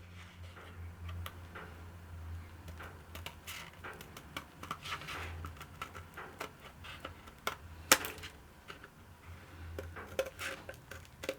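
A blade cutting a curved shape out of a bar of cold process soap, producing quiet irregular scraping ticks and clicks, with one sharper snap partway through, all faint and close with no talk.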